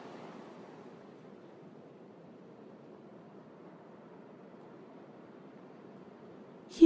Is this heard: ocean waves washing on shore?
yes